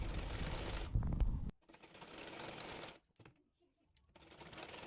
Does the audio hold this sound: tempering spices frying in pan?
no